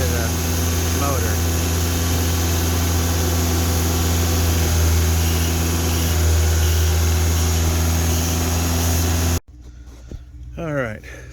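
A 2016 Hyundai Veloster DCT turbo engine runs at a steady, loud drone while CRC cleaner is fed through the intake, then cuts off abruptly near the end, leaving quieter background sounds.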